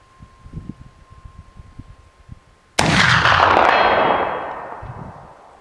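A single loud rifle shot cracks out mid-clip and rings with a long echoing decay at an outdoor shooting range, preceded by faint rustling and handling noises.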